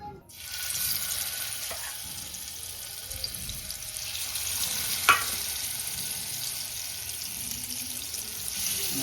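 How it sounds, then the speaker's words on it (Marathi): Coated boiled eggs fry on a hot pan with a steady, soft sizzle throughout, a faint clink partway through and no voices. "सगळे आपले कोटिंग करून झालेले आता आपण तव्यावर टाकू"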